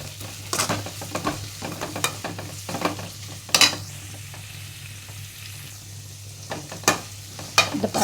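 Sliced onions sautéing in a pan while being stirred, giving a steady low sizzle with repeated scraping and clinking strokes from a utensil; close, moderately loud, with no talking.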